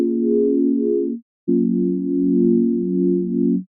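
A synthesizer key sound built from a sine wave with four unison voices and narrow spread, playing two sustained smooth, pure tones with a short gap between them, steady and fairly loud with no talking.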